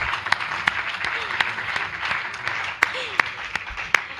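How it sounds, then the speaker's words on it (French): Scattered applause rises from an audience of elected officials at a climate report presentation, a moderate spread of clapping punctuated by a few sharp, close individual claps standing out above the rest. "Si c'est le cas, est-ce que vous pouvez applaudir ?"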